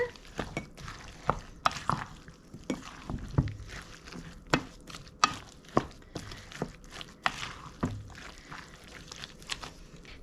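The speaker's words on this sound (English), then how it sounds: "Stir it all in." Chopped vegetables for a fermented salsa are stirred in a bowl, giving a run of sharp, irregular clinks and scrapes close by, with soft wet shuffling between the hits and no talking.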